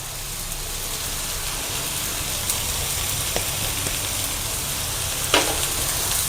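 Poha kachori filling with salt, turmeric and sabzi masala being sautéed in a pan: a steady close sizzle with a few soft spoon scrapes and taps, no talking.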